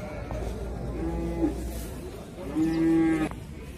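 Cattle at a livestock market low twice, a shorter moo followed by a longer, louder one, close by over faint background bustle.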